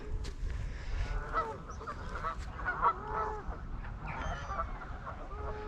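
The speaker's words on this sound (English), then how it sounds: "a few geese over there." Several geese honk repeatedly at a moderate distance, their calls overlapping in an irregular chorus against a low outdoor rumble.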